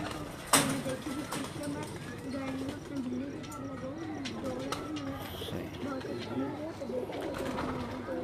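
Crossbred racing pigeons on a rooftop coo in a low, wavering rhythm that carries on steadily nearby, under someone talking, with a sharp knock near the start.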